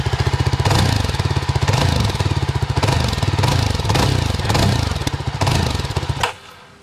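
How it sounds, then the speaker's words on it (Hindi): A 2022 Yezdi Scrambler motorcycle engine idles close by with a loud, even, low thudding pulse, then suddenly cuts out near the end, leaving quiet. "ये स्टार्ट हो गई मोटरसाइकिल।"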